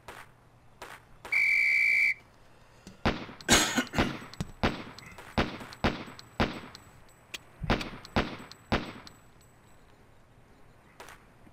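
A sharp whistle blast starts a timed shooting drill in the Police Quest: SWAT video game, followed by a string of loud, evenly spaced gunshots, a quick reload pause, then another burst of shots.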